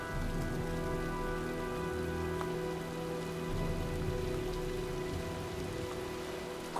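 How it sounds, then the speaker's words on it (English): Steady, dense rain falls in a video game as a storm rolls in, a continuous close hiss of drops on surfaces with a faint low rumble beneath, no voices. "looks like a storm's coming"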